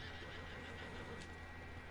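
A called horse whinnies faintly in Red Dead Online, a brief neigh sitting low in a steady bed of ambient game noise.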